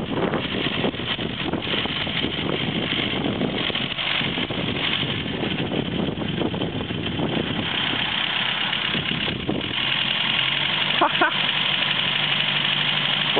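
A 1934 Morris 10 convertible engine idling, a steady mid-pitched running rumble close by, with brief voices talking over it near the end.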